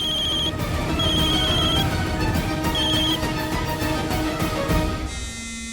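A phone rings with repeated electronic trills in short bursts, over background music, before a different tone cuts in at the end.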